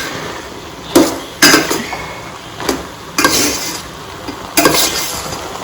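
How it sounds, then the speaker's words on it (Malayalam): Biryani rice being stirred in a pot, with scraping strokes at irregular intervals, about five distinct scrapes over a low background hiss. "ചോറ് നന്നായിട്ട് ഇളക്കി നോക്കാം."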